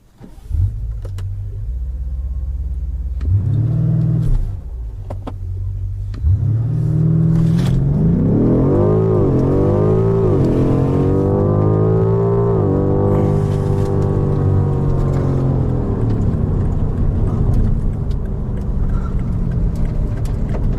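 A 625 hp BMW M5 Competition launches hard in second gear: a deep idle, a short rev, then a loud sustained engine howl climbing in pitch as it accelerates, heard close from inside.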